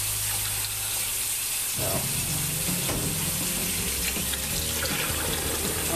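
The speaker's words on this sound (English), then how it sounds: "I'll just continue to run some cold water on this" Cold tap water runs steadily over smoked Polish kielbasa sausages in a sink, a constant close hiss and splash with a short spoken word near the start.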